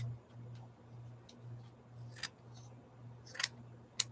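Scissors snipping a panel of pre-dyed cheesecloth off a roll, a few sharp separated clicks and cuts over a low steady hum, close and quiet with no speech.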